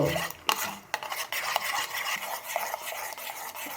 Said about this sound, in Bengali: কমলা লেবুর খোসা পেস্টটা দিয়ে 2 মিনিটের মতো একটু গ্লিসারিনটার সাথে ভালো করে মিক্সড করে নেবেন